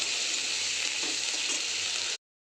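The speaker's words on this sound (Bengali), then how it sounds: "এবার আমি ভালো করে কষিয়ে নেব মশলাটাকে।" A masala of cumin and Kashmiri chili powder fries in a pan for a fish dish, giving a steady close sizzle with faint stirring before it cuts off abruptly.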